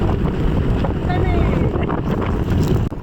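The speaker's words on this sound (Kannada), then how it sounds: "ಅಷ್ಟು ಜೋರಾಗಿ ಗಾಳಿ ಬೀಸ್ತಿದೆ." Strong wind gusts outdoors in a village with light rain, a steady loud roar of buffeting against the microphone throughout.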